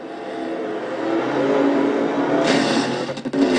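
A race car engine drones and revs steadily during a Castrol GTX Cup Series race, growing louder and rougher near the end with sputtering bursts as the car, hit from behind, tries to get going again, no voices.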